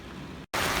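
Steady hiss of heavy rain pouring down, broken by a very brief dropout before resuming even louder.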